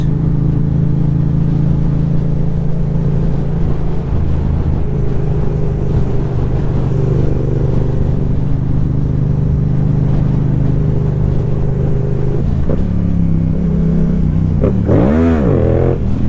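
A Yamaha R7 motorcycle engine drones loudly and steadily on a night ride, then swings through quick rising and falling revs near the end.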